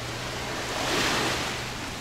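Ocean waves breaking on a beach at Railay, Thailand, a steady broadband wash of surf that swells and recedes over about two seconds, with wind buffeting the microphone throughout and no voices.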